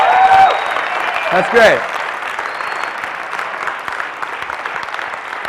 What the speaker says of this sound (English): Let's go clap or something.